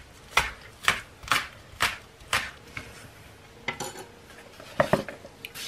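A knife chops green onion (oignon botte) on a board in a home kitchen, about eleven crisp, evenly spaced taps, close and fairly quiet with no talking.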